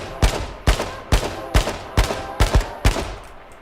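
An AK rifle tap-fires in the video game H1Z1, seven sharp, evenly spaced shots about half a second apart, loud and close with short decays.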